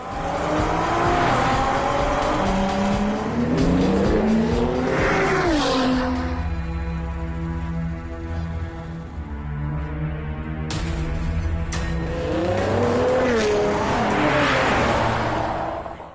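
Racing cars in a street-racing film chase, engines revving hard and rising in pitch, easing off midway, then climbing again, with tire squeal and a loud, roaring, close-up mix.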